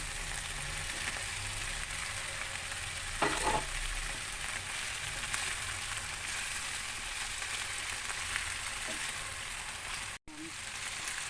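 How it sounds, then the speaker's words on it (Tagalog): String beans sauté in a hot pan for Filipino adobong sitaw, giving a continuous soft sizzle with a brief stirring scrape partway through and a faint voice near the end. "Igisa na natin yung sitaw."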